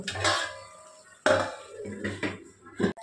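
A metal lid is set down on a pot of chicken boiling on a gas stove: a few close clinks and clatters, a sharper knock near the middle and another at the end, with quiet gaps between.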